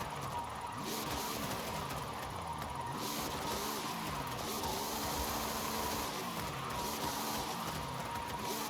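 A car on drag tires pushed hard down a mountain road, its engine droning loud and steady throughout with rising and falling harmonic sweeps as revs climb and drop, plus broadband tire and road roar.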